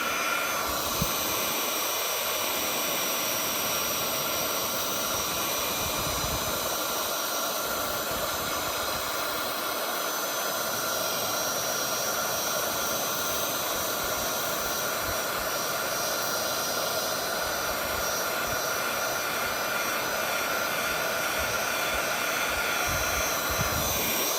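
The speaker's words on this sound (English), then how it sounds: "I'm gonna go ahead and grab my heat tool, and I'm gonna warm it up, and we're just gonna heat emboss this." A heat embossing tool warms up with a steady, loud, close blowing hiss and roar that runs without a break and has no talking over it.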